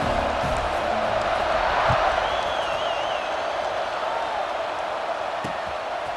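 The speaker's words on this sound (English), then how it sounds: "You think this crowd's going to get loud when their defense comes on the field?" A distant stadium crowd roars in a continuous wash of cheering, with a faint whistle partway through, in the video game EA Sports College Football 26.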